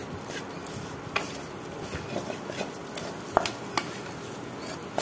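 Mung dal filling for kachori is stirred in a pan, soft scraping strokes and light clicks of the spatula over a low, steady sizzle, close and fairly quiet throughout.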